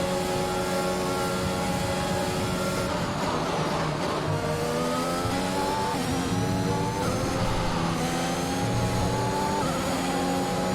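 A racing car engine in an F1 video game played with a steering wheel drones steadily throughout, pitch rising and shifting with gear changes, loud and continuous with no voices.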